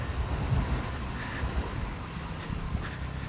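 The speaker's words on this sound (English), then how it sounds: "the train just went by" A train rolling past on a Tokyo street, heard as a steady low rumble and hiss that holds throughout at moderate distance, with no distinct clacks standing out.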